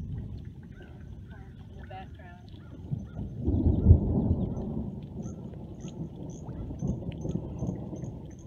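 A thunderstorm in the Carolina low country: a low rumble of thunder swells and fades over steady rain, with voices faintly audible early on.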